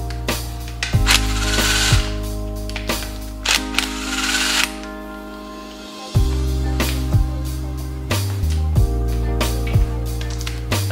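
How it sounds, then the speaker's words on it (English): A wrench on a Honda H22 engine's timing tensioner, close clicking ratchet strokes and metallic ticks over a steady low hum, with a brief gap mid-way, no talk. "So I'm gonna go ahead and remove this timing tensioner"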